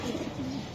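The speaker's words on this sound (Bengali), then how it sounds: "বড় ভাই এই যে আর একটা কবুতর দেখাই আমি, খুবই সুন্দর" A racer pigeon gives a short, soft, low coo close by, a brief throaty murmur with no talking.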